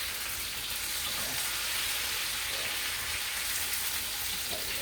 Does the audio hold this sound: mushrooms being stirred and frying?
yes